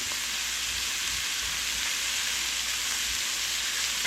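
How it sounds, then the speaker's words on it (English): Butter sizzles steadily in a pan over medium heat, a soft continuous hiss and crackle, faint and unbroken, with no voices. "Going to melt some butter. The pan is down to medium heat."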